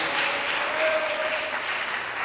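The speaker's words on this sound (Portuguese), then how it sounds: "dê uma salva de palmas bem alegre para Jesus" Church congregation applauding for Jesus during a service, a steady wash of clapping that holds at an even level throughout with no voices standing out.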